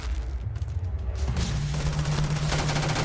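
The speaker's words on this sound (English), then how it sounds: "I could have sworn she was shooting at me." Enemy gunfire in the video game Starfield rattles in a dense, sustained burst, loud and continuous, backed by a low droning tone.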